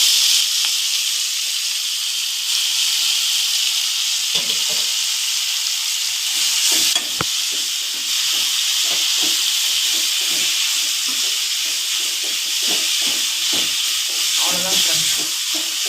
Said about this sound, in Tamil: நம்ம வச்சிருக்க ப்ரொக்கோலியை அதில் போட்டுருவோம்.